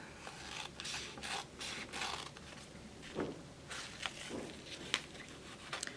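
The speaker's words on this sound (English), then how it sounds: "So she took her scissors and she cut a door." Several short snipping and rustling bursts, like scissors cutting through paper, repeating irregularly up close with soft scraping between cuts.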